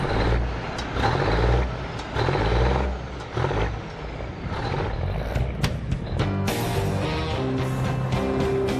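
A one-of-a-kind 20-ton truck roars loudly up close, its engine rising and falling in heavy surges, with hissing and rattling bursts and a steady tonal whine in the later part.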